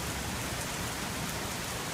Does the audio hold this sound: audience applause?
no